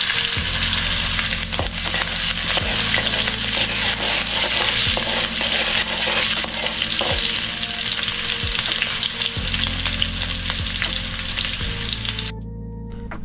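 Sambar wadi filling being stirred in a hot pan, a steady loud sizzle of frying with spoon scrapes and stirring clatters throughout, tapering off near the end.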